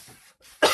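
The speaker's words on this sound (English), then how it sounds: "Got a little bit of a cough still." A man's cough, a single sharp loud burst near the end after a quieter lead-in, close to the listener with no talk.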